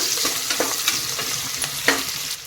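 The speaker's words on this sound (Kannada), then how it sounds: "ಇದು ಒಂದು ಐವತ್ತು ಪರ್ಸೆಂಟೇಜಷ್ಟು ಫ್ರೈ ಆಗಿದೆ" Sliced onions fry in a pan for canteen-style veg pulao, giving a dense, close sizzle with soft scraping stir strokes and occasional spoon taps throughout.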